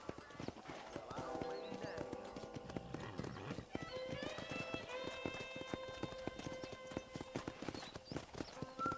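Horses trot around a ranch corral in the Western game Red Dead Redemption. Hooves clip-clop close and steadily throughout, and a whinny rises partway through.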